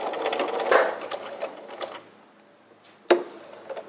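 A sewing machine stitches fabric along a corner seam in short close bursts, pausing briefly, then a sharp mechanical clunk as it reverses at the end, with no talk.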